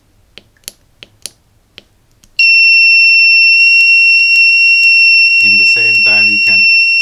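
A few faint clicks from a joystick press on a small Arduino module, then an electronic buzzer sounds a loud, steady high-pitched tone that continues to the end, with a short burst of speech partway through.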